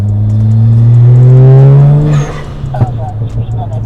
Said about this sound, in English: So you can hear the turbo spooling, you can hear the blow-off valve.